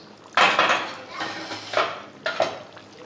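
A lid lifted off a pot of simmering taro and potato fish curry, giving a few brief metallic clatters and scrapes spread over a few seconds against a quiet room.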